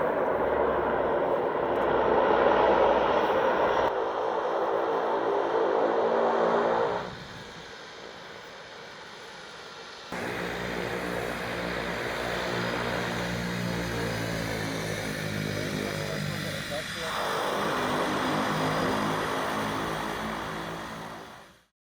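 A Loganair propeller aircraft engine roars steadily nearby, its drone shifting in pitch and level as the plane comes in to land on the beach at Barra, Scotland, then cutting off abruptly at the end.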